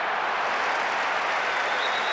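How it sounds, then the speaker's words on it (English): Crowd roar from the Winning Eleven football video game at kickoff, a steady dense wash of stadium noise with faint clapping throughout, loud and continuous with no break. "A big roar from the crowd as the game gets underway."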